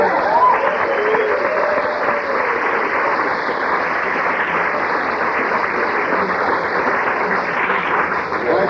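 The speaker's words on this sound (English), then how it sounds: "how about a round of applause to Richard Pryor?" Audience applause on an old recording from 1984 spoken-word material: steady, dense clapping lasting the whole stretch, slightly muffled and radio-like, with no pauses and no clear voices over it.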